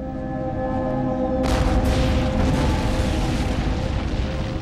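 A cannon shot lands as a sudden heavy blast that bursts out after a steady low hum, followed by a long rumbling, crackling roar that stays loud to the end.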